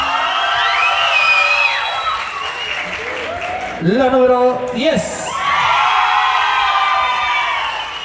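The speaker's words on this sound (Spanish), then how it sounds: "se está llevando a cabo a los aplausos y a la porra del público" Crowd applause and cheering at a huapango dance contest in San Pedro Zimapán, Hidalgo, loud and steady at the start and end, with an announcer's amplified voice speaking in the middle.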